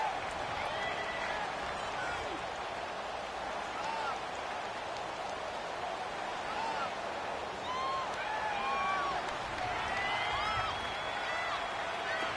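In a PS4 football video game, home stadium crowd noise forms a steady, moderately loud roar behind play-by-play commentary.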